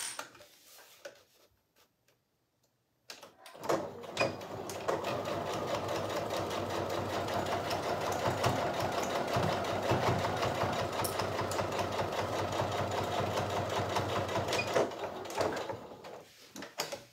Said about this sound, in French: On est en train de coudre le sac banane Charlie